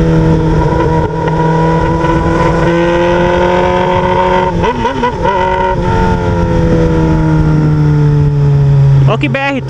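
A Honda Hornet motorcycle running a straight-pipe open exhaust on a highway gives a loud, close, continuous engine roar whose pitch holds high with small dips, under constant wind rush.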